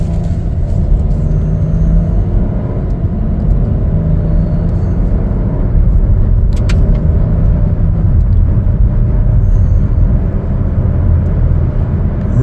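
A 2025 Chevrolet Trailblazer AWD LT pulls out into the street, its steady low road and engine rumble filling the whole stretch from up close with no speech over it.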